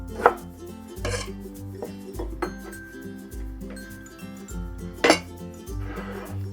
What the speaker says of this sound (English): So we'll slice the ginger into about 1/4 inch slices.